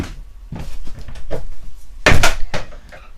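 A door is opened in a workshop during work on a Honda Street Cub with a petrol leak: several close, sharp knocks and clunks of the handle and panel, with one louder bang near the middle.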